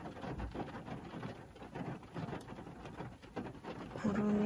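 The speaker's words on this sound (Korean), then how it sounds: "오늘 이렇게 비가 와서 여러분도 잠깐 빗소리를 들으시라고" A passing rain shower falls outdoors under a mix of cloud and sun, a steady soft patter that stays fairly even throughout, with a slightly louder, tonal sound entering near the end.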